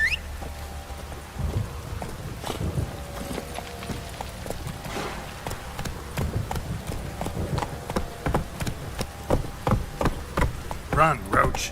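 A horse galloping in the video game The Witcher 3, rapid rhythmic hoofbeats building to a steady clip-clop over rain and a distant storm, fairly close, with brief speech in the middle.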